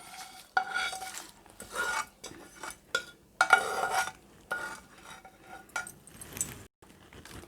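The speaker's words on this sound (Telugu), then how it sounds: "ఈ మిశ్రమం మొత్తం బాగా రైస్కు పట్టేలా నీట్గా కలుపుకోవాలండి" Fried lemon rice mixture is stirred into cooked rice in a bowl: irregular scraping and clinking of a utensil against the dish in short bursts with brief pauses, close and fairly quiet.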